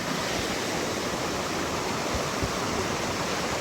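A monsoon-flooded river in Dapoli, Konkan, swollen with red muddy water after heavy rain, rushes in a loud, continuous roar that fills the whole moment, with no voices over it.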